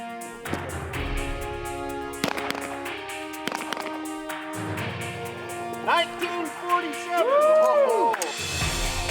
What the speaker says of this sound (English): Region 2 wardens are doing annual qualifications with live rounds.